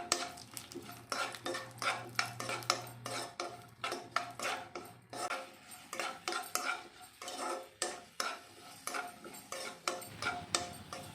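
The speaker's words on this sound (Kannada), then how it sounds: "ದ್ರಾಕ್ಷಿ ಹಾಕಿ ಫ್ರೈ ಮಾಡ್ಕೊಬೇಕು" Raisins, cashews and almonds are stirred in a pan, and a utensil scrapes and clicks against the metal in a quick, uneven rhythm. Faint frying runs underneath, all heard quietly and close up.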